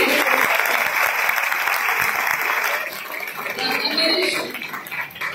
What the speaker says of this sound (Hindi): अपने लोगों के लिए एक जोरदार तालियां बजाइए